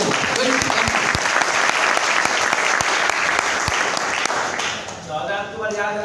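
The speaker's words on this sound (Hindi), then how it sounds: "एकदम जोरदार हाथ ताली दो।" Loud, sustained applause from an audience at a business development training session, dense clapping filling nearly the whole stretch before fading toward the end, with some voices mixed in.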